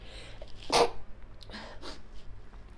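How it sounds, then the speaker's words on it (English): A single sneeze bursts out near the start, loud and close, followed by a couple of fainter breathy sounds over a quiet, hissy room. "I'm about to sneeze"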